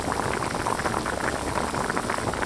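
Fish chunks and tofu simmer in a pickled vegetable broth, giving a steady, close bubbling and gurgling boil that continues without a break.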